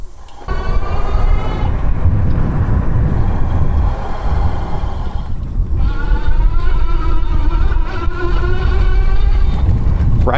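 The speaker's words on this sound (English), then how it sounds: "Rides through the grass flawlessly, especially with that suspension." Furious Reaper Ultimate 60V all-wheel-drive electric bike riding through grass, with a steady whirring motor whine that rises and falls in pitch over continuous rough rolling noise, loud and close throughout.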